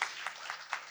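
Applause for Dani, creator of the Borges Palooza literary event, a short burst of hand clapping from an audience in a hall, with three faint swells over a steady patter.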